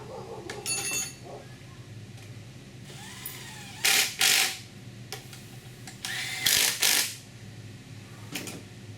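Ratchet wrench clicking in short bursts while fitting the AC compressor on a 2010 Volvo XC90 3.2, several loud close ratcheting runs separated by pauses, with faint mechanical handling noise between.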